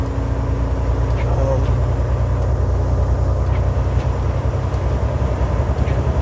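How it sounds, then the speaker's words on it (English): Steady low rumble and tyre hum inside a truck cruising down a highway in Alabama or Mississippi, continuous and even throughout, with a person talking over the road noise. "Maybe put kids to sleep from sounds of the road."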